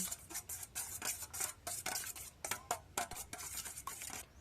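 Eggs with black pepper and salt being beaten in a bowl, a fast steady rhythm of close scraping and tapping strokes against the bowl, quiet with no voices.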